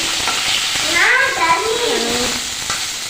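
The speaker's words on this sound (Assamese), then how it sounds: "মাছ ভাজি আছোঁ" Steady broadband sizzle of fish frying in a pan, continuous throughout, with a brief rising and falling tone in the middle.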